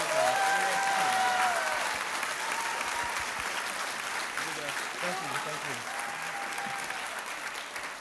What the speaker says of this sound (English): Let's have a big round of applause for Michael